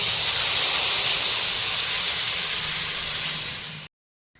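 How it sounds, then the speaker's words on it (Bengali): Water is poured into a pan of sautéed taro, throwing up a loud, close, continuous hiss of steam that holds for almost four seconds, then cuts off abruptly into silence. "কচুটা কষানো হয়ে গেছে এবার জল দিয়ে দেবো"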